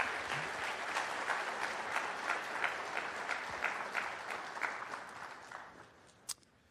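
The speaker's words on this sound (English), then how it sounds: "let's start by giving them a round of applause" An audience at a university lecture event applauds, dense steady clapping for about six seconds that gradually thins and fades, ending with one sharp clap.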